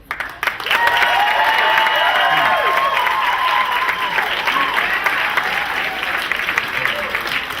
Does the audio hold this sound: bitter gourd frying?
no